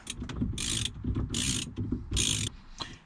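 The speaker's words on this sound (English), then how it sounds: "so we're going to do that bolt up now" A ratchet tightens a bolt on a car, repeated quick clicking bursts in several strokes with pauses between, close and fairly loud with no talk.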